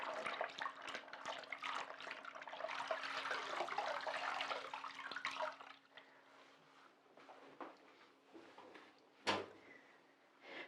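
Lingerie is hand washed in a basin of water: faint close splashing and sloshing for several seconds, then quieter dripping and a single sharp knock near the end.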